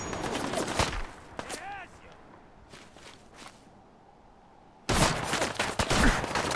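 Gunfire from a sniper rifle in Fallout 4's Far Harbor expansion on PC: loud close shots crack at the start, then a quieter stretch, then a sharp, sustained burst of fire from the five-second mark on.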